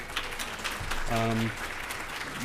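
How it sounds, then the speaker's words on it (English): An audience applauds at a medical conference session, a steady wash of clapping that runs through the whole stretch while a voice talks over it in the middle. "I want a second round of applause for Savannah, please."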